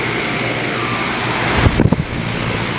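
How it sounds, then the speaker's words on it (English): A 2010 Goodman GSX13 3-ton central air conditioner runs in cooling mode, its broad ocean fan motor spinning four blades over a scroll compressor. It makes a steady whooshing hum, and a few low thumps pass midway. "It's 3-ton Goodman running and cooling mode."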